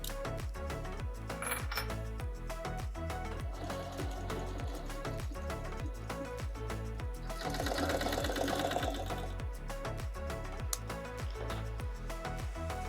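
A sewing machine stitches gator and diamond upholstery for a motorcycle seat in a fast, steady mechanical chatter of needle strokes, close and continuous, with a brief whirring stretch midway as the bobbin winds during sewing.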